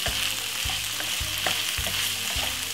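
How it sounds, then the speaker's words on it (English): Meatballs pan-frying, made with garlic, spring onion and vegetables, give a steady close sizzle with periodic low thumps and scrapes as they are turned in the pan; no one speaks. "So it's a pan fried meatball."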